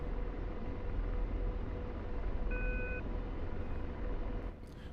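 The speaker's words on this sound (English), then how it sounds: "So you always hear a beep when it can't maintain what you're asking it to do." A short electronic warning tone from the autopilot in the DCS World flight simulator sounds once, brief and clear, over a steady broadband hum of engine and cockpit noise.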